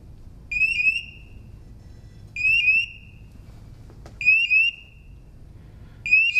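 A shrill electronic alarm on a Micro IV gas detector during HCl calibration chirps in four evenly spaced bursts, each a bright warbling beep about half a second long, over a low background hum.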